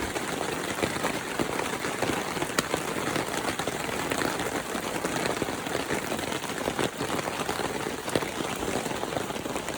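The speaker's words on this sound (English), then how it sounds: "Because it is raining pretty hard." Hard rain pouring down at a provincial park campsite in the evening, a dense, steady hiss of countless drops pattering on surfaces, with occasional louder individual hits, continuous and close throughout.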